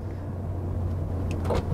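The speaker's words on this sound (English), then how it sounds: "One window drops down, and then the next window drops down." Frameless power windows on an original 12-cylinder BMW 8 Series lowering, a low steady motor whir with a faint click near the end, heard close up.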